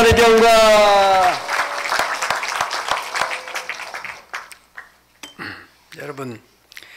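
A church congregation breaks into applause, loud dense clapping that thins into scattered individual claps and fades, with music or singing fading out at the start and a voice beginning to speak near the end.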